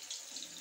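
Tamarind water poured into a pan while cooking, a steady soft liquid trickle lasting well under a second, faint and close with a small splash near the end.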